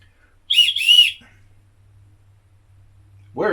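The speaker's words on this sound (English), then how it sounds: "even looks like has a bit of a rape whistle on there" A safety whistle built into the sheath of a Gerber Strongarm knife is blown in two quick shrill bursts, fairly loud and close, then a low hum follows and a voice starts talking at the end.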